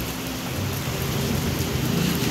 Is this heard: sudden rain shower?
yes